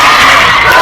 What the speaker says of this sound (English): The crowd cheering on the solo cheerleader throughout her one-woman routine.